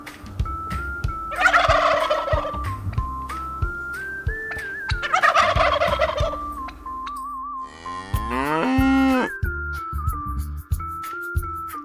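A farm turkey gobbles in three separate rattling bursts, loud and close, set against a bouncy backing tune with a steady beat.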